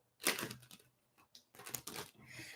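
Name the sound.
shuffling a deck of tarot cards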